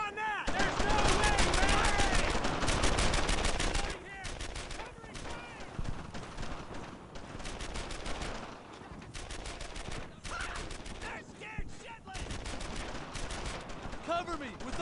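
Sustained bursts of gunfire from the World War II shooter Brothers in Arms: Earned in Blood, rapid volleys and single shots crackling loudly and almost nonstop, with shouted voices mixed in.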